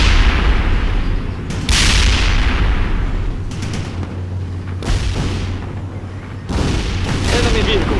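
Heavy gunfire and booming artillery from the World in Conflict: Soviet Assault video game, loud and continuous over the whole stretch with several sharp bursts, as a battle rages without pause.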